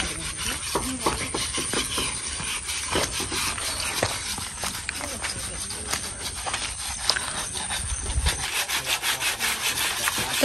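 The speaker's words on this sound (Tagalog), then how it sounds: "magliha-liha tayo dito" Repeated rasping strokes of sandpaper rubbing against the wood of a hut, close by and fairly rhythmic, with a voice speaking intermittently underneath.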